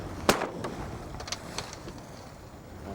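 A single sharp shotgun blast cracks outdoors amid wind during a bird hunt in Newfoundland, followed by a few fainter, more distant pops.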